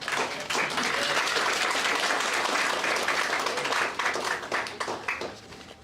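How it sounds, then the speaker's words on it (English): A graduation ceremony audience at the Victorian Institute of Technology in Sydney applauds graduates, dense continuous clapping from a large crowd that holds steady before tapering off at the end. "Ladies and gentlemen, please don't hold your applause. Make that noise and celebrate as I advise you."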